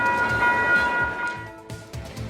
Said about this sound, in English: The westbound train is now arriving.